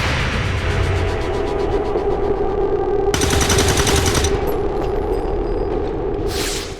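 Rapid gunfire crackles continuously in XCOM 2: War of the Chosen, loud and sustained, with a bright metallic burst midway and a short high ring near the end.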